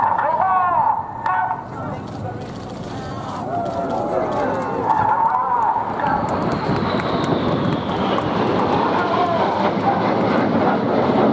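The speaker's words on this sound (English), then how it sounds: "Keep your eyes on those two jets as they fly to shotgun." RAF Red Arrows jets flying the shotgun manoeuvre at an Eastbourne air show, a broad continuous jet roar rising and building toward the end, heard beneath a commentator's steady talk.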